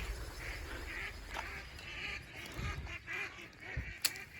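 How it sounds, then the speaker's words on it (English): Ducks call and honk faintly near a frozen pond, scattered quacks over a soft outdoor background hiss. "The ducks didn't like me doing that, apparently."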